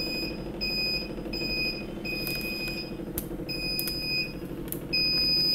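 Repeated high-pitched electronic beeps from an XM18SW temperature and humidity controller alarm, pulsing evenly and close by over the continuous drone of an exhaust fan.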